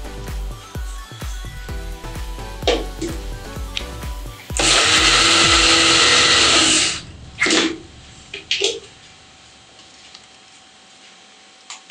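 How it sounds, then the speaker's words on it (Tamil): A mixer grinder blending sapota fruit whirs loudly for a couple of seconds, preceded by rapid ticking and clatter and followed by a few short knocks as the jar settles, with nothing else around it. "எல்லாம் சேர்த்து பழத்தை மிக்சியில் போட்டிருக்கேன். ஒரு அரைச்சிடலாம்."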